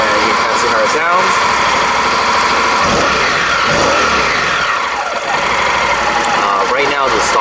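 Honda NM4 motorcycle with stock muffler, idling in neutral and briefly revved, a close mid-pitched engine rumble with pulsing firing beats and a few throttle blips throughout.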